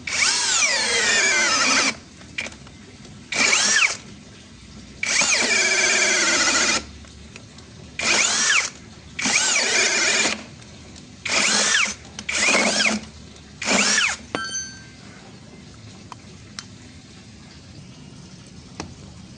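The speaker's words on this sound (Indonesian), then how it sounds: "Mata bor kipas 24 mili. Kecepatan 2 ya." A 21V brushless cordless drill with a 24 mm spade bit at speed setting 2 whines up and down in repeated bursts of a few seconds each, loud and close, with short pauses between runs.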